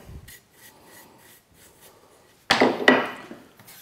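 A metal file rasps across a steel card scraper to take off the burr: faint light strokes at first, then two close, loud scraping strokes near the end.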